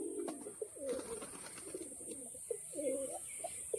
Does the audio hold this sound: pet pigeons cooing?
yes